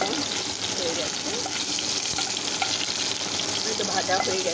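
Chicken kofta balls fry in a kadai of oil for a biriyani, giving a steady, close, dense sizzle with small bubbling crackles throughout and no talk.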